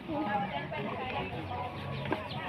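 Chickens clucking in a rural Thai setting, a steady low murmur of clucks amid background noise and faint voices, moderately close.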